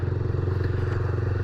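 A motorcycle fitted with an aluminium exhaust revving gently on the street, giving a steady, close, loud rumbling drone with a fast pulsing beat.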